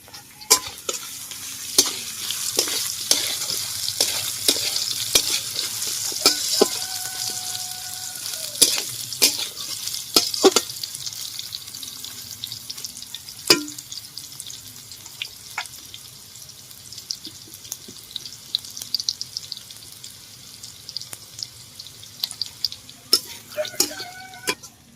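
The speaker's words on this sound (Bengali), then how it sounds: "এবার আমি সয়াবিন গুলো দিয়ে দেবো।" Soybean chunks fry in a pan during dalia khichdi cooking, a steady sizzle under repeated scraping stirs and spoon knocks against the pan, fairly close, with a brief tap-like water sound near the end.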